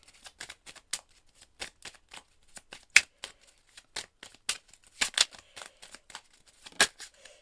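Oracle cards being shuffled by hand, heard up close as a series of soft, irregular papery riffles and slaps, with no talking.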